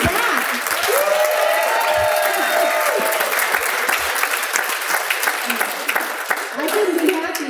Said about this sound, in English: I think you all need to give Kelly Sparks another round of applause